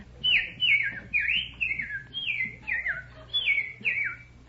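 A person imitates bird calls on a radio comedy quiz show, whistling a rapid series of chirping, warbling notes with a regular rhythm, close and clear over faint background hum.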